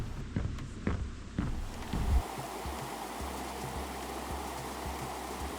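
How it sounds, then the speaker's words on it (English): Running stream water on a woodland hiking trail near a footbridge, a steady broadband wash that follows a few brief knocks and handling sounds at the start. "Yeah, the water's running nice today."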